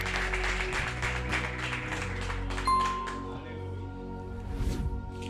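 A church congregation applauds together, a dense sustained clatter of hands over steady keyboard or organ tones, thinning after the first few seconds as the music carries on.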